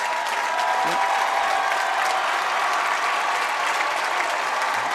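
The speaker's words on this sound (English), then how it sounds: "allow the starters to get a well-deserved round of applause" Sustained crowd applause fills a high school basketball arena during a state semifinal between Barrington and North Kingstown as the starters leave the game, steady and dense throughout with faint voices mixed in.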